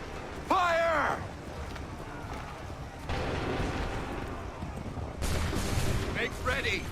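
A musket volley in Assassin's Creed 3 bursts out sharply, followed by a rolling wash of gunfire and battlefield din, with a shouting voice over the top.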